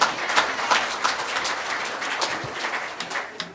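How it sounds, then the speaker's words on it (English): Audience applause at a committee meeting, a brief round of moderate clapping in a room that holds steady and then tapers slightly, with no voices over it. "That was cheap applause, and I appreciate it."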